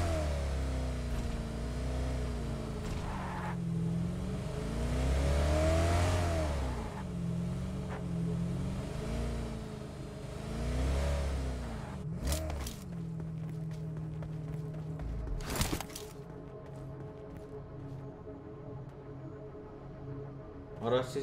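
Vehicle engine in PUBG Mobile drawing closer, a mid-pitched motor whose revs rise and fall in waves under the game's ambient sound, followed by a few sharp impacts near the end.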